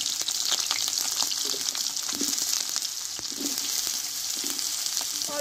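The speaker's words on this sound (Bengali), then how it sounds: "এই তেলে আমি আলুগুলো দিয়ে দেব।" Potatoes drop into hot mustard oil in a wok and fry with a steady, close, bright sizzle and crackle that runs unbroken throughout, with no voices.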